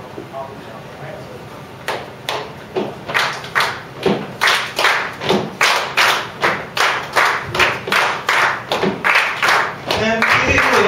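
A church congregation claps along to a song at a worship service, sharp regular claps falling in a steady rhythm about twice per second and growing louder, with some background voices and music.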